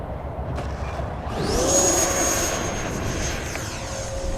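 An E-flite Viper 90mm electric ducted-fan RC jet does a fast touch and go, its whining fan swelling as it sweeps past nearby with a rising, then falling pitch over steady outdoor background noise.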